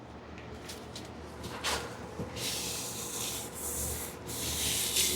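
Shellac-based sanding sealer is rubbed onto a turned wooden bowl, making soft, close, uneven swishing and rubbing strokes with brighter hissy passes, all at low volume and without speech.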